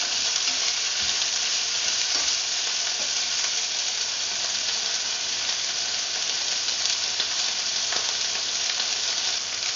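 Onion and tomato sizzle steadily in a pan while being stirred, part of cooking mussels and vegetables in coconut milk; a dense, continuous frying hiss runs loud and even throughout with faint stirring scrapes.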